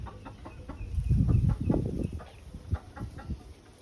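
Backyard chickens about 21 weeks old cluck in a series of short, uneven bursts, loudest in the middle, with soft background noise and no talking.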